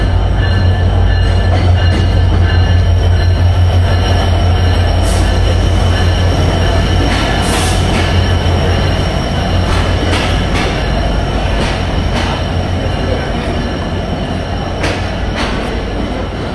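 Ramna local train rolling steadily along the rails, a loud continuous low rumble with wheel noise and occasional squealing and rattling throughout, heard close from inside a coach with no talking.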